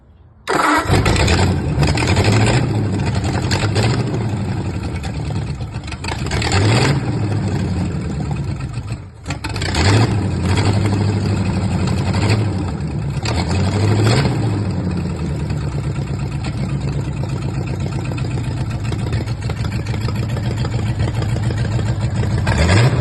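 The old motor of a 1930 Ford Model A pickup cranks and catches, then runs loud and close with a rough, uneven idle, a brief dip partway through, and recurring surges of revving.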